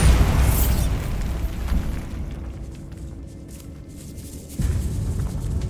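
A Bombarda spell blasts in the video game Hogwarts Legacy, a loud booming explosion that bursts at the start and rumbles away to a quiet hum before another low thump rises near the end.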